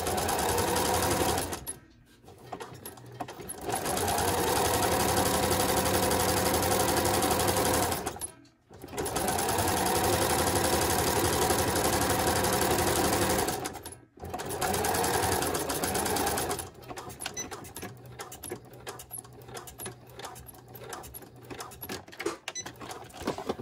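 A sewing machine stitches elastic toward the end of a seam in long, fast, steady runs broken by a few short pauses, finishing with a stretch of slower, uneven stitching, close by.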